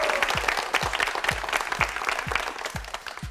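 A studio audience on a Korean TV language quiz show claps in a dense, steady round, with rhythmic low thumps running under the applause throughout.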